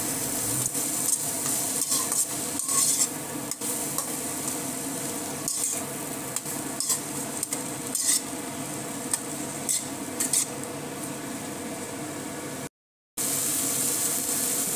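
Arum lobe with salt and turmeric is stirred over a high flame, a continuous sizzle overlaid with frequent sharp scrapes and clicks of a spatula against the pan, with a brief silent gap near the end.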